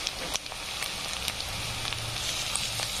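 Curry leaves frying in a pan for masala pulao, a steady close crackling sizzle with scattered sharp pops, fairly loud and without speech.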